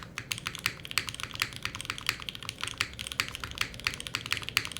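Mechanical typing on a Mode SixtyFive keyboard in top mount configuration, a steady run of crisp, close key clacks with rounder spacebar thocks mixed in, fairly quiet with no voices.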